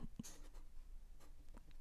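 Pen or pencil writing out a math equation by hand on paper, with a few short, faint scratching strokes in quick bursts, close and quiet.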